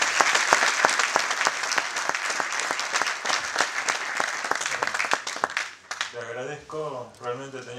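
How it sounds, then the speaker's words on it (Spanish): Audience at a university engineering conference talk in La Plata applauding, a dense loud burst of clapping lasting several seconds before a voice begins speaking over the fading claps. "les pido un aplauso para Marcos y su gente."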